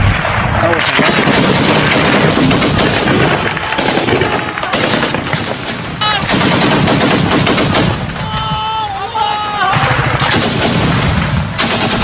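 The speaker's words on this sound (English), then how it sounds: "the morning air was split by automatic gunfire" Bursts of automatic gunfire in a military ambush on a convoy near Tongo Tongo, loud and close, rattling in dense rapid volleys that fill the whole stretch with brief gaps and louder cracks.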